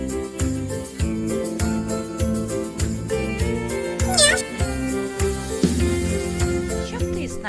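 A voice mimics a cat's meow over a bouncy musical backing with bright tinkling notes, the imitation repeated briefly.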